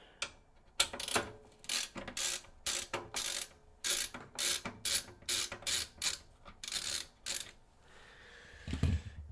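Screws are backed out of a PC case during a build with an AMD Ryzen 5 7600 and Radeon 7800 XT, giving a rapid series of close, crisp ratcheting clicks in short regular bursts, with no talking.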